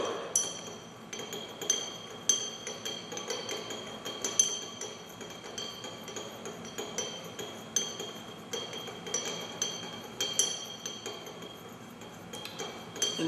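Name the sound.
glass stir bar stirring a solution in glassware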